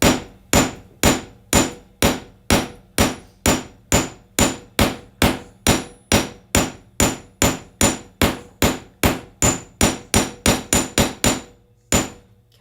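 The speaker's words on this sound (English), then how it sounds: "And then I'm going to take my large hammer and I'm going to hammer my piece." A large hammer strikes a metal stamp on a jewelry piece about twenty-five times in a steady, even rhythm. Each blow is a sharp, loud, close ringing clank, and the pace quickens slightly toward the end before stopping.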